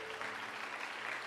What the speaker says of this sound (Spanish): me gusta que usted se dé un aplauso esta noche